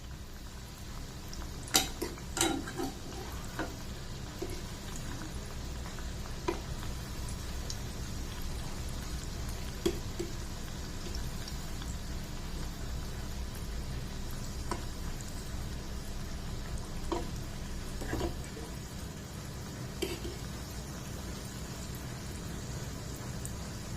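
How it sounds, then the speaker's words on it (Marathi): Cauliflower manchurian frying in oil on a medium flame: a soft, steady bubbling sizzle with scattered sharp pops and crackles, fairly quiet and continuous, with no one talking. "मीडियम फ्लेमवरच हे करायचे फ्राय करायचे"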